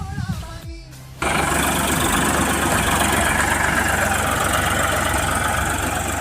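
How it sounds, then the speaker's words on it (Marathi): A heavy tractor diesel engine starts up after a second of quieter sound, then runs loudly and steadily in a continuous rumbling idle on a farm. "ट्रॅक्टरने आपलं परत झाडाला सपोर्ट देण्यासाठी पिलर पण मारतोय"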